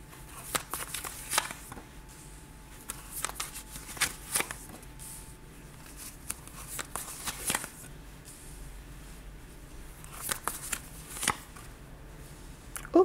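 Tarot cards being shuffled for a nine-card spread, a soft, steady riffling and sliding of cards in bursts of rustling, close and quiet, with no talk.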